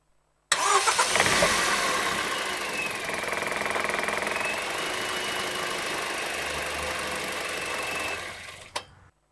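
A recorded car engine sample plays back, starting abruptly and holding a steady mid-pitched running drone with a faint whine before cutting off near the end, alone and moderately loud.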